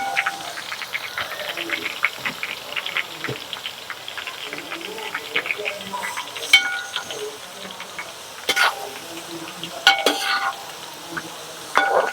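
Green chilies frying in oil in a home kitchen while a prawn pickle is made: a soft, steady sizzle with scattered crackles and the occasional clink of a stirring utensil, quiet and close throughout.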